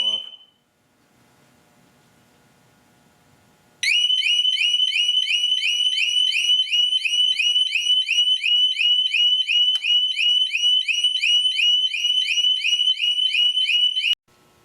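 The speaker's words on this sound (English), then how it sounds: "I think there's a couple of warning chirps, and then the siren should go off." A Harley-Davidson Smart Siren 2 motorcycle security alarm blares a loud, continuous warbling electronic wail for about ten seconds before cutting off abruptly, preceded by a faint low hum.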